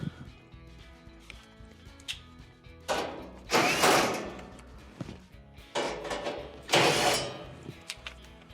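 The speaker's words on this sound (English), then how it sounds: "your flame spreader will need to be removed. It's held in by two 1/4-inch screws." A tool works out the 1/4-inch screws that hold the flame spreader inside a Frigidaire oven, giving close, loud ratcheting clicks and scraping metal bursts with quiet pauses between them.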